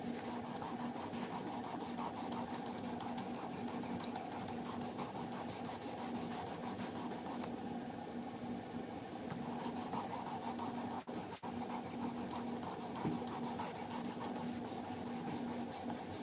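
A knife being sharpened with steady, repeated rasping strokes, close and fairly quiet, continuing with only a brief pause midway.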